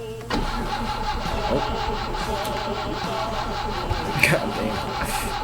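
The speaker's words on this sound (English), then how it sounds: "I went to start the car with a screwdriver." A car engine in the video game My Summer Car, started with a screwdriver, cranks and catches, then runs at a steady, loud mid-pitched idle with a slight rev near the end.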